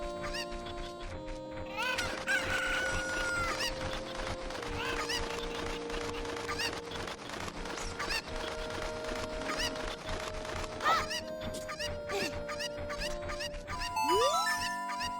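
Cucco chickens in The Legend of Zelda: Ocarina of Time cluck and squawk in repeated bursts over steady game music, with a brief jingle near the end.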